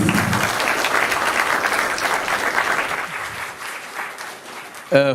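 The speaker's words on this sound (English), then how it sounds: "a very good round of applause" Audience applause at a BBA honors program event in an auditorium, steady dense clapping from a large crowd lasting several seconds, then thinning out before a brief louder burst at the end.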